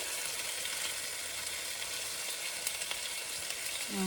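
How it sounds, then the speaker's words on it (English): Beans sizzle steadily in a hot skillet, a constant crackling hiss close by with a few louder pops. "we will start by adding the beans to our skillet here. Oh, it's nice and hot. It's already sizzling."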